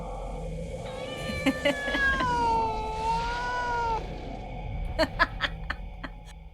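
Drawn-out kitten meows rise and fall as a sound effect during a tabletop game session, followed by sharp clicks and taps, with faint chuckling in the background.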